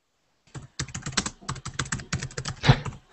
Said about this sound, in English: Looks like I have a late typer.